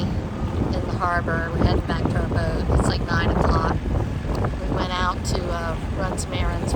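A small outboard dinghy motor drones steadily under wind buffeting in a harbor at night, with people talking over the engine noise throughout.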